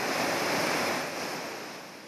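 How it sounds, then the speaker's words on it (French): Heavy surf from a big north swell at Orofara on Tahiti rolls in as a loud, continuous wash of breaking waves, fading gently toward the end, with no voices. "il y aura des vagues pour tout le monde."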